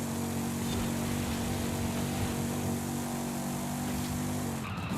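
A retro supercar engine in Forza Horizon 5 holds a loud, steady high-revving drone at full throttle, with road and tire noise underneath. The pitch drops near the end as the car lifts or shifts. No one speaks.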